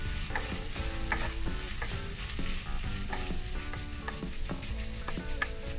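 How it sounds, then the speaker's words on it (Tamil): A fish cutlet mixture is stirred in a pan with turmeric and cumin powder, giving steady scraping, clinking strokes of a utensil over a low continuous sizzle, close and moderately loud, with no talking. "இந்த கலவையிலே நாங்கள் மஞ்சள் தூள், அதோடு சீரகத்தூள், சீரகப்பொடி இரண்டையும் சேர்த்து நன்றாக கலந்து விடலாம்"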